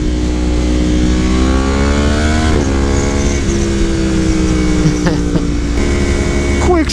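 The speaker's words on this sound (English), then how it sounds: "I'm going to shift from second to third while being on the throttle just for fun" Yamaha R1M superbike quick-shifting from second to third under throttle, the engine rising steadily, then a brief crack and drop in pitch before climbing again, loud and close with no talk over it.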